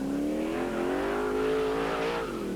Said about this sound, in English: Turning from Brooklands, the journalist, sliding the car around, is heading for victory yet again here at Silverstone.